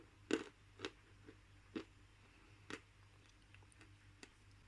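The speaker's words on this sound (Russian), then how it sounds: "Жуется с хрустом." Crunchy chewing of Tatar Rose, a heavy, dense, cream-coloured edible clay from Bashkiria, heard as a handful of sharp, close crunches spaced about a second apart over a quiet background, fading toward the end.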